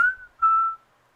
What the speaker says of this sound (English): So I have my dad come in and record these whistles for me